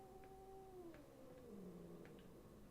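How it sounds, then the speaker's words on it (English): Cats fighting in a room: a long, drawn-out low caterwaul that wavers and slides downward, with a few soft clicks and rustles, quiet and fairly close. "And I got cats fighting in my room."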